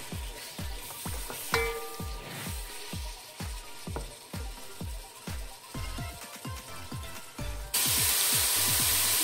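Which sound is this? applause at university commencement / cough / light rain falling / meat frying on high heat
meat frying on high heat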